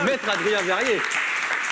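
A studio audience at a French regional TV talk show applauds a lawyer, the clapping steady throughout, with a voice speaking over the first second before the applause carries on alone.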